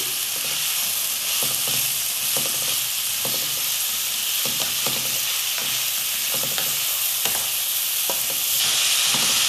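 Onion and hot bell pepper sauté in a pan with a steady bright sizzle throughout, broken by regular scraping knocks of a spoon stirring the vegetables, close and loud, with no talking.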